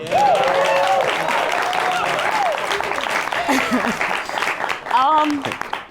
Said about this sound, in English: Can we give a round of applause for Alderwoman Jeanette Taylor?